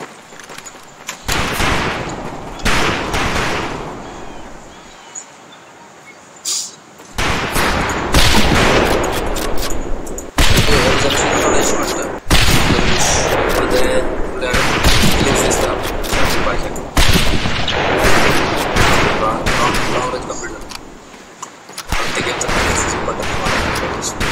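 Scoped rifles fire at long-range targets in Medal of Honor Pacific Assault, producing loud, sharp shots in irregular bursts separated by short pauses.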